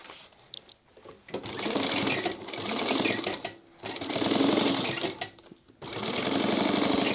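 Sewing machine stitching around the perimeter of a sling crossbody bag in three loud bursts of rapid needle chatter, separated by short pauses.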